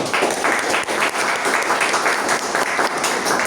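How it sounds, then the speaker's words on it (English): Toastmasters club meeting audience giving a full round of applause, dense and even clapping sustained throughout at a steady, fairly loud level. "a big round of applause to the TM"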